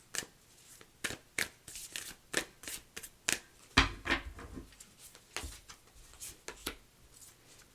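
Cards from a Moonology oracle deck being shuffled by hand, a close, quiet series of crisp riffling flicks in an uneven but steady rhythm with no talking.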